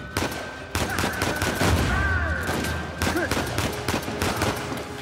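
Pistol and rifle gunfire in the Uncharted 4 video game, loud rapid volleys of sharp shots in irregular bursts with in-game voices faintly underneath.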